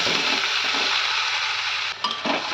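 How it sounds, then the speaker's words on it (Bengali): Boiled moong dal being stirred into fried spices in a pan, a steady broadband sizzle with soft scraping strokes, then a brief clatter of utensil on pot near the end, close and fairly loud, no talking. "বেশ কিছুক্ষণ নেড়ে চেড়ে ভালোভাবে মশলার ডাল মিক্স করে নেব"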